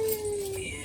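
A puppy lets out a single short, high whimper that slides slightly downward, close by and alone for under a second.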